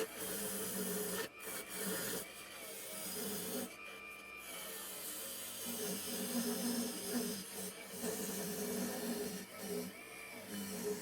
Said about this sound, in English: because the lathe is slightly underpowered, you can hear it struggling